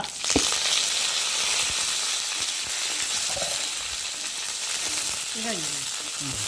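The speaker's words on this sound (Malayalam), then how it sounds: "ഉണക്കമുളക് ഇടണം ഒന്ന് ചോക്കട്ടെ കറിവേപ്പില ഒരുമിച്ച് ഇടട്ടെ ചോക്കട്ടെ" Dried red chillies and curry leaves fry in hot oil for a baby potato masala roast, giving a loud, steady crackling sizzle with scattered pops and a brief faint voice near the end.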